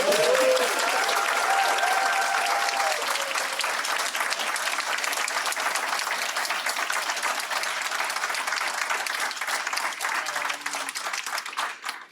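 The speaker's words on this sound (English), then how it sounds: "let's give this panel a round of applause" An audience at a talk on Vodou mythos and history applauds a panel, a broad sustained wash of many clapping hands that stays level for the whole stretch, with brief voices faintly underneath at the start.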